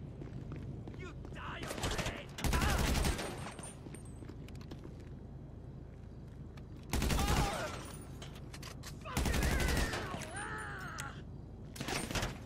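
Bursts of automatic gunfire in GTA V Online crackle in several separate volleys over a busy game background, loud and near, with gaps of quieter ambient sound in between.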